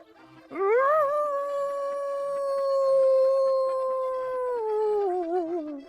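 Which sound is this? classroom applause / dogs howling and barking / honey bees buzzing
dogs howling and barking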